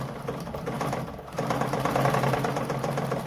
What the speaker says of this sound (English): I'll just sew through gently.